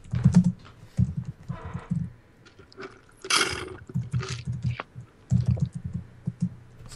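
Fast, forceful typing on a computer keyboard comes in rapid bursts of clattering keystrokes separated by short pauses, with a louder rustling noise in the middle.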